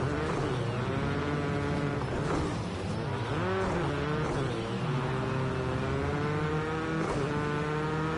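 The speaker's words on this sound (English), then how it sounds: "So drag race now down the main straight." Race cars drag racing down a main straight in Rally Fighters, several engines droning and revving together at once, pitch climbing and shifting through gears, loud and continuous with no talk over them.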